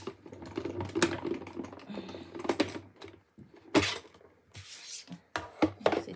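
Craft paper being cut for a handmade greeting card, a series of sharp, close snips and crisp rustles in irregular bursts with short pauses between them, no voices.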